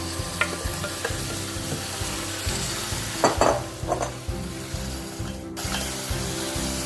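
Vegetables stirred and scraped around inside an Instant Pot Ultra 60 beside a pork roast, with a steady sizzle and a few clattering scrapes near the middle, close and unaccompanied by speech.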